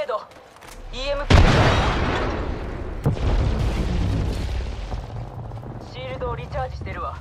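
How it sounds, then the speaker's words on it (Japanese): An enemy grenade explodes in Apex Legends with one loud, close boom that rumbles and decays over a few seconds, followed by a second thud. Character voices are heard before and after the blast. "敵のグレネード"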